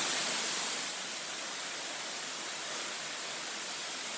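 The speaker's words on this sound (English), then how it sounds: "This is high pressure soap." High pressure soap sprays from a wand at a self-service car wash, a steady broadband hiss that stays close and loud, unbroken for the whole stretch.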